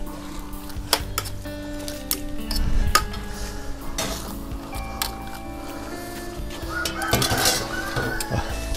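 Vegetables blanching in a pot of boiling salted water: a steady bubbling hiss with clinks and knocks of utensils against the pot and a brief splash as the greens go in, close and fairly loud throughout.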